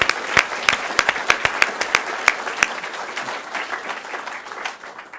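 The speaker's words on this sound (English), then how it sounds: "Please give Te Manako and Philip Court in particular a round of applause." Audience applause at an open source awards ceremony in New Zealand, with a few sharp claps standing out early before the clapping thins into a scattered, fading patter.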